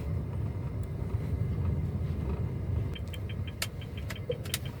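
A 2016 Honda Brio RS with a manual gearbox being driven, heard from inside as a steady low engine and road hum with a few light clicks and jingles, no talking.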